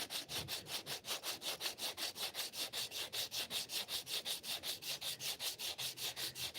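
A knife blade is sanded by hand with 80 grit sandpaper in a steady back-and-forth rhythm of rasping strokes, about four per second, close and quiet, with no talking.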